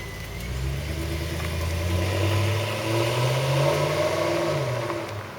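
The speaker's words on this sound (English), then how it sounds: "Oh, I still love the sound of that car." A Volvo S80 4.4 V8 engine idles and revs with a deep, throaty rumble, rising and settling over a few seconds, close by with no talking.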